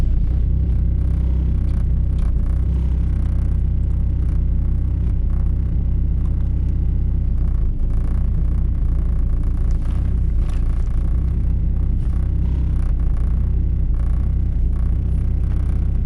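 A car running straight E85 idles during tuning, a loud, steady low rumble with a deep even drone held for the whole stretch, close up and with no voices over it.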